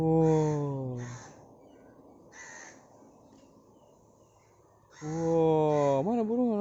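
Crows caw outdoors, with loud harsh repeated calls at the start and end and fainter calls in between, while a voice talks over them.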